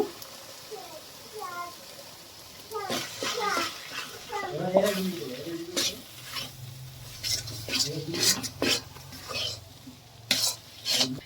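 Pumpkin mixture with gram flour is stirred in a pan in repeated scraping and sizzling strokes that grow busier halfway through, while someone talks over the first part.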